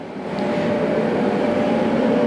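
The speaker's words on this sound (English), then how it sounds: "Sorry for the noise. There are a lot of fans." Many fans blow air through a building's workspace after a flood, a steady loud broadband roar with a low hum, continuous and unchanging throughout.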